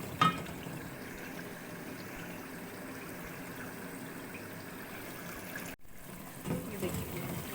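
Chicken hits fried masala in a biryani pot, setting off a steady, close sizzle and bubbling hiss that runs throughout, with a brief clatter at the start and a short drop near the end.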